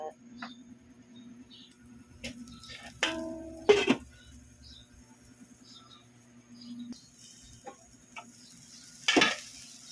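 Chicken cooks in a pan with a faint sizzle. Occasional stirring scrapes and utensil clatter punctuate it, and a voice is briefly heard.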